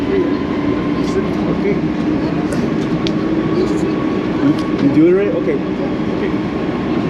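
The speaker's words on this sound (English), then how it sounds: "We got full train here." A crowded tram rumbles along in Brno, a loud steady rolling drone with faint squeals and clacks, as people talk briefly over it.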